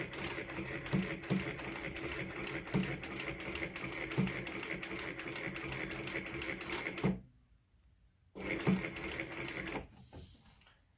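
A sewing machine stitches a leather journal cover in a fast, steady mechanical chatter with regular clacks, close and loud, stopping abruptly for a brief silence before a short burst resumes and fades.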